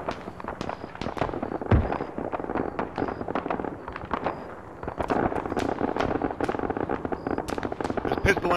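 Scattered gunshots in an Arma 3 firefight on Tanoa, sharp cracks and pops arriving irregularly at varied distances, some close and loud, others distant, while players talk over the shooting.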